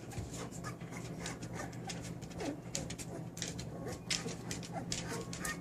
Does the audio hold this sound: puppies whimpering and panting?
yes